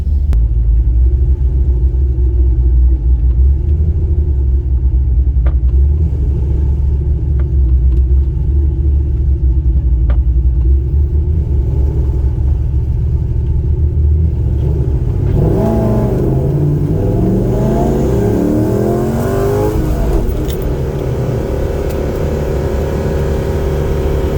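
A Corvette race car on race day rumbles loudly at idle with a low steady engine drone, then revs through several rising sweeps before the sound drops, with no talk.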